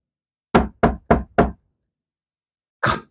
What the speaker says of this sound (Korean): 노크 소리가 그 한밤중에 들렸어요.